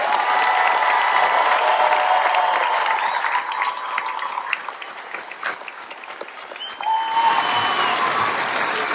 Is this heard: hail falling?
no